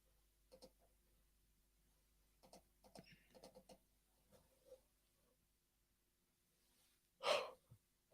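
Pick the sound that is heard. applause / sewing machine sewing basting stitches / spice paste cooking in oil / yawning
yawning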